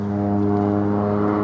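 An agricultural propeller airplane flies low over kibbutz fields near the road to Arad, Israel, spreading fertiliser; its engine gives a loud, steady droning hum throughout.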